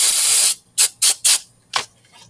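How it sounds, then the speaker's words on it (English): An aerosol spray can coats a model spaceship part, opening with one long loud hiss and then four short, separate bursts nearby, with a faint hiss trailing at the end. "This one I'm gonna spray with this."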